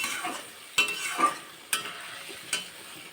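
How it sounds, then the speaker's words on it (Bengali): Spice paste with salt is stir-fried for fish curry, a soft sizzle broken by a few distinct spatula scrapes and knocks against the pan, fairly quiet and close. "নুন দিয়ে আবার একটু ভালো করে মশলাটা কষে নিচ্ছি"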